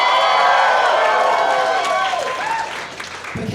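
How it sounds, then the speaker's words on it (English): A large convention crowd at an opening ceremony cheering and applauding loudly, a dense continuous roar of claps and high voices that starts strong and tapers off toward the end. "please cheer louder so she can hear you"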